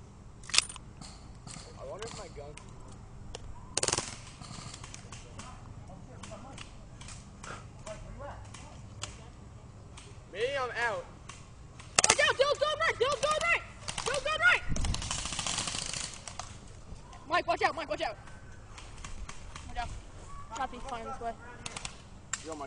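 Airsoft guns fire during an outdoor combat round, with rapid bursts and single sharp cracks scattered across the clip, some close and loud, others fainter, mixed with shouting and talk between players.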